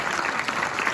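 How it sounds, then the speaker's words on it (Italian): Brief burst of crowd applause for a mayor at a public gathering, steady dense clapping from many hands at moderate distance, alone without speech. "un applauso al sindaco."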